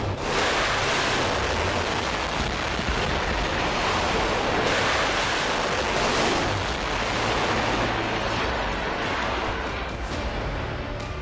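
Ocean waves, a dense continuous roar of surf with broad washing noise that swells and eases slightly, steady and fairly loud with no voices.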